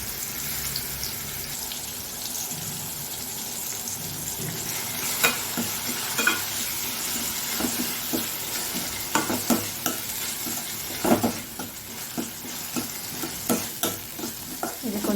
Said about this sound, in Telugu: ఇలా కడాయి పెట్టి ఆయిల్ వేసుకొని ఇలా ఉల్లిగడ్డ వేసుకొని వేయించుకోవాలి